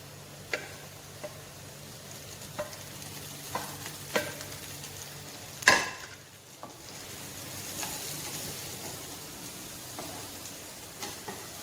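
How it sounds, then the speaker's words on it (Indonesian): Sausages added to a pan of fragrant frying garlic, a soft steady sizzle with scattered light ticks of a utensil and one louder clatter midway, fairly quiet throughout, with no speech. "Bawang putihnya wangi, kita akan memasukkan sosis."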